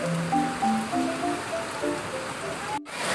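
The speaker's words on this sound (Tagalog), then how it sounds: "Ang lakas po ng ulan." Steady, dense heavy rainfall hisses loudly and continuously over a flooded neighborhood, with a faint tonal whine drifting over it and a brief dropout near the end.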